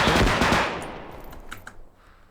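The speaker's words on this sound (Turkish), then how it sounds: "Mermi kulağımın önüne geçti." Automatic gunfire from the video game Bodycam, a loud opening burst of rapid shots that decays into a reverberant tail with a couple of fainter later shots.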